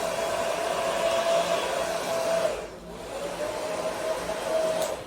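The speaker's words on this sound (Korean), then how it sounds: "드라이기에 이 찬바람으로 파우더 쉐이크가 묻어있는 상태에서 찬바람으로" Hair dryer on its cool setting blowing steadily onto hair dusted with powder, a constant airy whoosh with a faint whine that dips briefly midway, close and fairly loud throughout.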